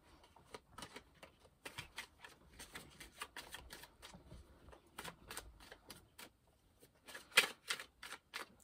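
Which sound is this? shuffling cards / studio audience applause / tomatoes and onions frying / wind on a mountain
shuffling cards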